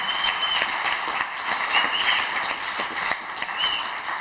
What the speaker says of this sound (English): Please give Dr. Lisa Martino-Taylor a round of applause.